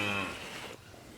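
A farm cow moos once, loud and close, in a low drawn-out call that fades into quiet outdoor background.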